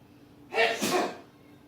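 A single close, loud sneeze bursts out in one sharp, breathy blast about a second long, then fades into quiet room tone.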